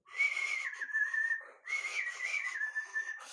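A person whistles in two loud, sustained, wavering phrases, imitating a butcher's piercing whistle that rises and dips like an alarm, close and alone.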